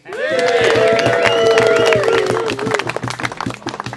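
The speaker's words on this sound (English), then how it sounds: "Round of applause for the sailors." A campfire gathering at a summer camp's 100th anniversary erupts in loud, close whoops and cheering voices, trailing off into scattered clapping.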